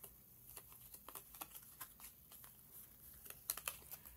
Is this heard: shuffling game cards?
yes